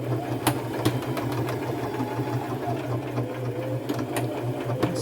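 A sewing machine runs steadily while stitching a belt onto the seam of a fringe boho bag made from thrifted material. The motor hums close by with a continuous low drone and faint ticks, and no voice is heard.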